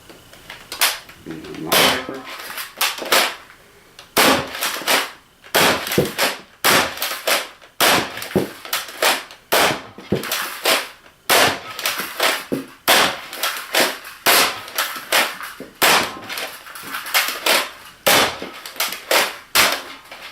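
A Dart Zone Titanium foam dart blaster fires repeatedly through a Zeus magazine, loud sharp close snaps in uneven bursts with short gaps, heard alone without talk.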